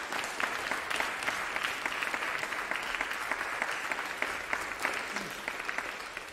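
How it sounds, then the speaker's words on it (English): An audience at a music scholars' masterclass applauds two musicians with a continuous, even wash of clapping that holds at moderate, somewhat distant loudness for over six seconds. "Let's give those two a big round of applause."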